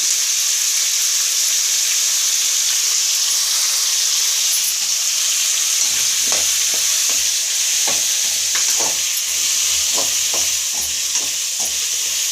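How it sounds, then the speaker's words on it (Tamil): Raw mango pieces dusted with chili powder sauté in a pan, a steady frying sizzle running throughout, with a run of close spatula scrapes and stirring knocks coming in over the second half. "இப்போ மிளகாத்தூள் போட்டு நல்லா வதக்கி விட்டாச்சு."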